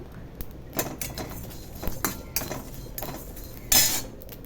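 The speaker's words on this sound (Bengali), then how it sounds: "আমি গরম কড়াইতে নাড়াচাড়া করতে থাকবো" A metal spatula scrapes and clinks against a hot wok as roasted spices are stirred after the gas is turned off, with irregular close knocks and one louder rattling scrape near the end.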